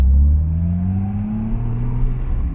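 A car engine drones and shifts pitch during a double-clutch gear change, loud and close, with the revs sliding down and then settling into a steady rumble, no talking.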